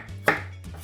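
A single sharp knife chop through ginger on a board, a crisp thud with a short tail, followed by a quieter second tap; no talking.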